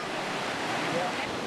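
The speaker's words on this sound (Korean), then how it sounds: "물소리가 시원한 이곳은 러시안 폭포입니다." Rushing water of Russian Falls, a waterfall in Alaska, heard as a steady broadband roar from close by, with no break in its continuous wash.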